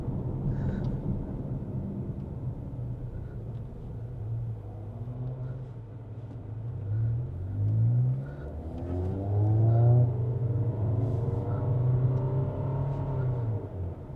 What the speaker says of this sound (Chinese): 我已经地板油了啦，地板油了，踩到完了的啦。